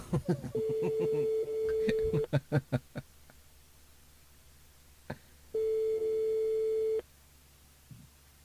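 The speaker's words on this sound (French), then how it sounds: "On appelle Anaïs sur le standard." Telephone tones during a call placed by a French radio show to a listener, two long steady beeps separated by a gap, with brief clicks and a few short sounds near the start.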